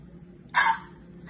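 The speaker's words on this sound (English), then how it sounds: "I think you've got hiccups." A chimpanzee gives a single sharp hiccup, a sudden short burst that stands out clearly against a quiet background.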